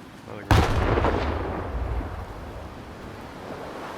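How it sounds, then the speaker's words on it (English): A grenade explodes in the Stalker 2 shooter: one sudden loud blast followed by a long rumbling decay that fades over several seconds, with no other sound standing out. "Another grenade."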